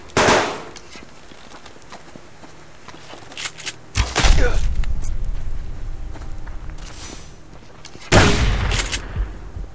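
Gunfire in the survival video game Subsistence: loud broadband shot bursts, one at the start, another around four seconds with a lingering rumbling tail, and a third near eight seconds, separated by quieter ambient stretches.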